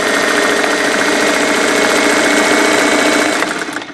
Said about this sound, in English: here's the sound of my machine.